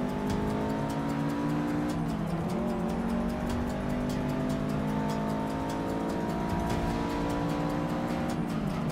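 A race car in the Forza 6 driving game roars at high revs, with repeated gear shifts and steady engine drone, loud and continuous throughout.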